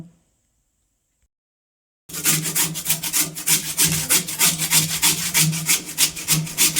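Potatoes scraped against a hand grater for crispy fried shoestring potatoes: about two seconds of near silence, then a steady run of close, rhythmic rasping strokes, loud and without speech.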